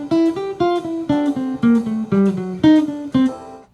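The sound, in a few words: jazz guitar phrase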